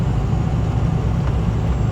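A 6.0 Powerstroke diesel truck cruises at about 56 mph over a bumpy road, a loud, continuous low rumble of engine and road noise heard from inside the cab with no breaks.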